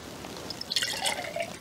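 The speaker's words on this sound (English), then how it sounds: "I'm going to pour it back into the glass that I got the water out of" A homemade MRE drink pours from a bag back into a glass, giving a short, light trickle and splash of liquid that rises briefly and then thins, close by and fairly quiet, with no talking.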